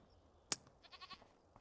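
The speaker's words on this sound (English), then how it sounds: "Look at a little goat there." A small goat on a farm near a hay trough gives one brief, faint, quavering bleat, and a few softer murmurs follow. No one talks.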